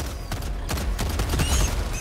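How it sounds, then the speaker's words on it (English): Turret firing in the video game Helldivers 2, a rapid loud stream of gunfire bursts with sharp repeated cracks close by, continuous for a couple of seconds. "Oh, the turret is going crazy."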